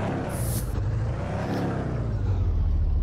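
A car drives along a village road, its engine a steady low rumble and whir with tire and road noise throughout, briefly rising as it accelerates, heard from inside at close range with no talking.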